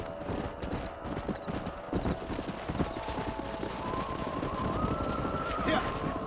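Horses' hooves clip-clop steadily through the whole stretch in the Red Dead Redemption video game, a busy rhythmic clatter mixed with music and ambience, with a brief tonal swell near the end.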